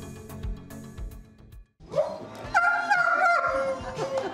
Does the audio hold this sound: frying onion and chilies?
no